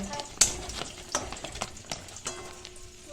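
Onions fry in a pan with a steady crackling sizzle, broken by intermittent spatula scrapes and taps, close by, with faint voices in the background.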